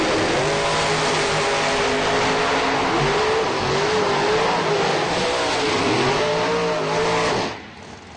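Drag racing cars launch down the strip at a Super Buck Friday event, their engines roaring loud and close with rising and falling revs throughout before the sound drops away near the end, with no talk over it.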